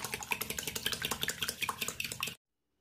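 An egg and milk are beaten briskly in a bowl, producing a quick, steady run of close clinking strokes for a little over two seconds before falling silent.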